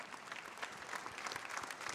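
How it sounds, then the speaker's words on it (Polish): An audience at a Polish local-government political gathering claps in a continuous, fairly soft burst of applause, with individual hand claps audible through the steady roar. "Wielkie brawa"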